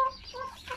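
A rooster and hens cluck and call in a backyard coop, with several overlapping short clucks close by and no talking.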